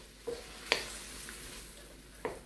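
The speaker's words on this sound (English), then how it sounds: "So you're stirring it. You want uniform cooking on all the shrimp." Shrimp fry quietly in a pan for Thai basil shrimp, a soft continuous sizzle punctuated by a few sharp metallic clinks of a utensil stirring against the pan.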